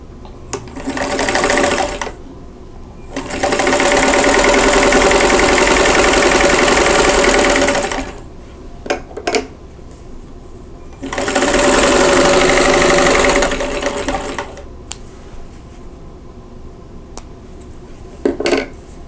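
A sewing machine stitching the corners of a county fair quilt block runs in two long steady whirring bursts, with short clicks and handling noises in between, close and loud with no talking.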